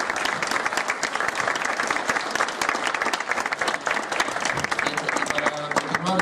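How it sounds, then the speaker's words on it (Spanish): An audience at a Spanish-language lecture on the ancient Maya claps hard and steadily, a dense, even wash of applause that carries on for several seconds before thinning slightly toward the end. "le damos un fuerte aplauso."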